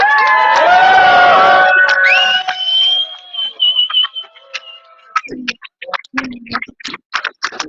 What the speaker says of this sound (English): Can we just give them a massive cheer from London?